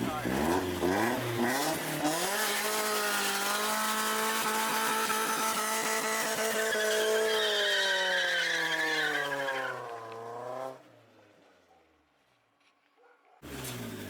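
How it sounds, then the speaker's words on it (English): A BMW E36 doing a burnout, its engine held at high revs with a loud sustained tire squeal and roar for about ten seconds before dropping away to near silence, then a brief burst at the end. "I'm gonna do a badass burnout until the tires blow out"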